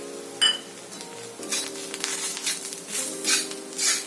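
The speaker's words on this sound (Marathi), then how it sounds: "आता त्यामध्ये आपण सुकं खोबरं किसलंय ते घालूया, आणि ते पण कांद्याबरोबर भाजून घेऊ आपण" Grated dry coconut roasts with onion in a pan: soft sizzling swells in waves as it is stirred, with a sharp metallic clink of a spoon against the pan near the start.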